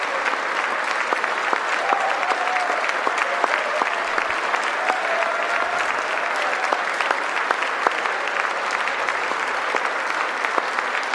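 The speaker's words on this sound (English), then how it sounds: "they're all clapping for him" A large audience applauds at the State of the Union, the sustained clapping steady and dense throughout with a faint murmur of voices woven in.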